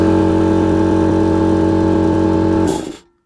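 A Mercedes W202 electric cooling fan runs hard, giving a loud, steady droning hum with a strong tonal whine that holds evenly, then cuts out and spins down in the last half second. No one speaks.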